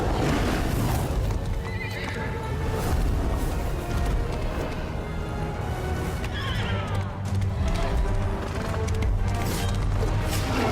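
A horse whinnies and neighs amid thundering hooves, booms and crashes in a loud, dense action scene from a Bethesda video game trailer, with the soundscape staying dramatic and full throughout.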